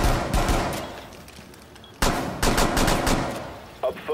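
Gunfire in the tactical shooter video game Rainbow Six Siege, loud bursts of automatic weapon fire in two main volleys with a brief pause between, close and sharp, with no talking.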